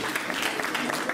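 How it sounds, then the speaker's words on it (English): Audience applause at a temple's Sunday evening program, a short burst of dense clapping with a voice over it. "Komal, give a big round of applause and welcome Komal."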